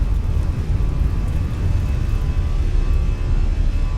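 Airbus A320 jet engines spooling up at takeoff in Microsoft Flight Simulator, a steady loud roar with heavy wind rumble and a faint whine, continuous and close, no talking.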